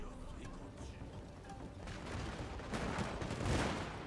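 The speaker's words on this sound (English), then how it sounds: "now we're going to see just how devastating matchlocks are" A matchlock gun volley in Total War Shogun 2 crackles across the battlefield, a rolling ragged burst of many shots that builds toward the end, fairly faint and distant under battle ambience.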